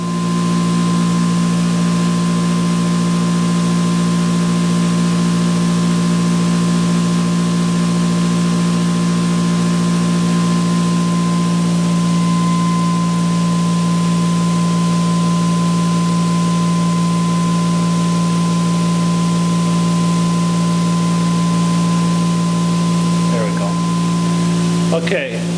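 A generator with its conventional generator coil switched onto load runs with a loud, steady mechanical drone and a constant tonal hum, unbroken throughout, with a brief change near the end.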